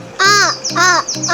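A crow caws three times in a row, loud and close. The harsh calls are evenly spaced and used as a story sound effect.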